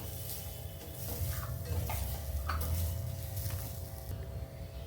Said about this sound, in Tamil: இதில் ஒரு கால் கப்பு தேங்காய் சேர்த்துக்கிறேங்க ரெண்டையும் சேர்த்து நல்லா வறுத்துக்கலாம்